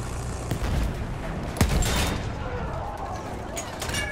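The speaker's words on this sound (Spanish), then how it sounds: "Me está disparando" Gunfire in the Battlefield 1 video game, sharp shots cracking out at about half a second and a louder one near a second and a half, with scattered faint reports over a steady battlefield din.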